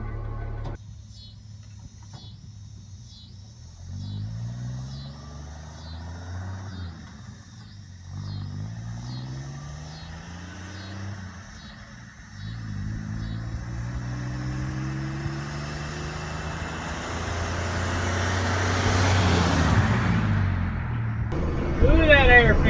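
An old 1959 Chevy Apache pickup, long parked, drives on a road. The engine rumbles and repeatedly revs up through the gears, a rhythmic ticking runs early on, and wind noise builds toward the end as it gains speed.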